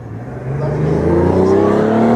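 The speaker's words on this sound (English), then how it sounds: "Take it all in as the AMG hits the track here at Cop Hill on a crossover SUV." Mercedes-AMG crossover SUV launching up the Kop Hill hill climb course, its engine revving hard with a rising pitch that swells louder over about two seconds, close and loud.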